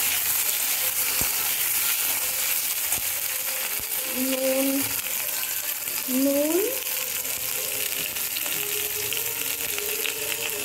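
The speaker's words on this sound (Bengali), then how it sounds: "আলু আর কচুটা খুব ভালো করে ভাজা ভাজা হবে" Potatoes and taro stems fry in oil with a steady, broad sizzle that runs the whole time, while a voice speaks briefly over it.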